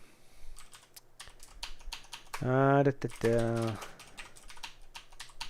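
Typing on a computer keyboard while working in Sublime Text, a steady patter of close, light key clicks running throughout, with a short stretch of someone talking over it in the middle.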